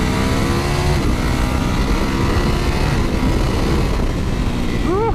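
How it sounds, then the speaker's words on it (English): A Ducati Panigale V4S ridden on the road roars loudly and continuously, with the engine note climbing under strong acceleration and wind noise mixed in. "This bike is so fast. It picks up speed."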